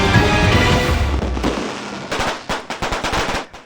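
New Year fireworks and firecrackers burst in a loud, dense barrage that gives way to a quick run of sharp cracking pops near the end.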